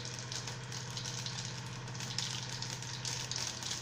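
Mustard seeds and cumin sizzle in hot oil while tempering for a dudhi kofta curry, a quiet, steady frying hiss with a faint low hum underneath.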